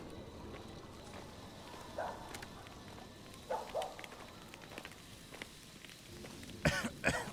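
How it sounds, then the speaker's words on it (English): Short, near coughs in the video game Maid of Sker, heard in bursts beside a fire; three or four separate coughing fits over a quiet, faintly windy background. "Who the fuck coughs around fire?"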